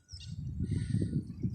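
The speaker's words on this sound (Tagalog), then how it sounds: "At ang dami pong mga ibon dyan" Many birds chirp in a thicket where food and water are set out, faint high twitters floating over a heavy low rumble of nearby jackhammer work.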